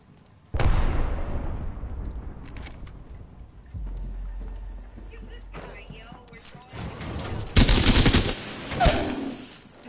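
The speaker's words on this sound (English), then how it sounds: "Getting shot at." Gunfire in Apex Legends: a loud close shot opening into a decaying tail, followed by a low rumble, then bursts of rapid automatic fire near the end, with game sounds in between.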